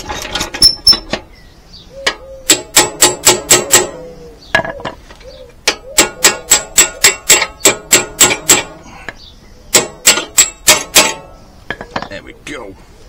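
A bicycle wheel spins freely on its axle after a brake adjustment. The hub ticks in quick, sharp bursts of clicks, with short pauses between the runs, close and clear.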